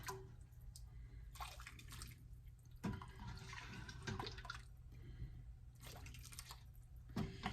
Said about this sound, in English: Now I will add the broth.